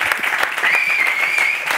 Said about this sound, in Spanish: un aplauso a Luz Fantasma